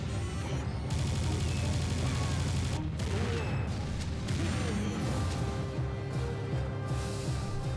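Rapid gunfire from the first-person shooter Serious Sam 2, with dense bursts of shots, crashes and explosions over a looping game soundtrack, loud and continuous throughout.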